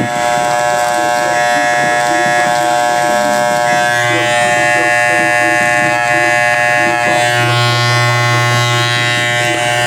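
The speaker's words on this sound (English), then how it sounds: "make sure you guys kind of angle the clipper a little bit, tilt it higher to the side that you're going to line it up" Electric hair clipper buzzing steadily while cutting and lining up a kid's hair, a close, continuous motor hum with small shifts in pitch as the blade is angled against the hairline.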